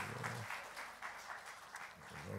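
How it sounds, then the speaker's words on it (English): Faint, distant applause from a group of people, a soft continuous patter of clapping lasting a couple of seconds. "Give her a round of applause."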